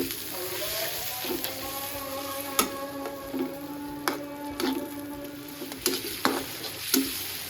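Food sizzles steadily in a pan with chili powder, coriander powder and salt, with light clicks and scrapes of stirring over the frying hiss.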